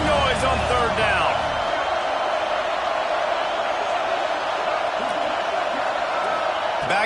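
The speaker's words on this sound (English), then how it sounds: "This dog crowd is off the leash, and they are coming after them, bringing noise on third down" At a Georgia Bulldogs football stadium on third down, a huge crowd keeps up a steady, loud roar throughout. A commentator speaks over the noise.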